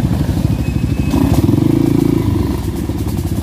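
Trail motorcycle riding a rough jungle trail, its engine loud and close with steady throbbing revs, a brief harder rev in the middle and light clatter over the rumble.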